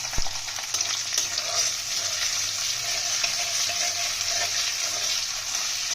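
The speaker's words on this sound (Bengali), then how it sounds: "আমরা এই তেলের মধ্যে সবজিগুলোকে এক এক করে ভেজে নেবো" Washed, drained cauliflower florets fry in hot oil in a pan for vegetable pulao, producing a loud, steady sizzle with faint stirring and no talk.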